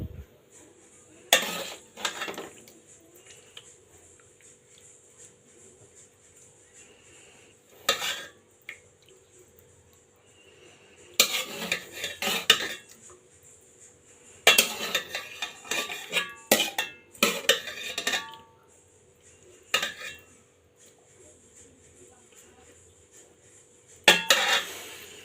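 Spoons and utensils clink against pots and dishes while rui fish curry with cauliflower and eggplant is served, in scattered bursts of metallic scraping and tapping separated by quiet pauses. No one speaks.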